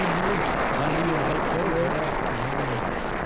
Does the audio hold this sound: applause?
yes